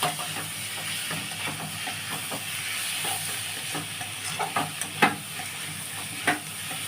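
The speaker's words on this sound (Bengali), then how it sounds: "দেখুন বন্ধুরা, মাশরুমটা ভাজা হয়ে গেছে" Mushrooms fry in a pan with a steady close sizzle and hiss, broken by scattered pops and a few sharper crackles.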